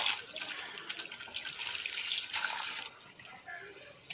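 Taro root (arvi) is rubbed and washed under running tap water in a kitchen, a steady close splashing and trickling flow with faint handling sounds throughout.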